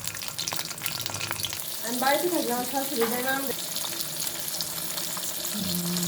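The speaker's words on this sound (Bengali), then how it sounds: "দিয়ে দিলাম তেলের ভিতরে পটলগুলো দিয়ে দিলাম" Pointed gourds hit hot oil and set off a loud, steady sizzle and crackle close by, with stirring along the way. A voice is briefly heard over the frying.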